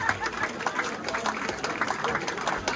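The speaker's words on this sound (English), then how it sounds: "Big round of applause." Audience at a rugby club social event clapping steadily, a moderate burst of applause with crowd chatter mixed in.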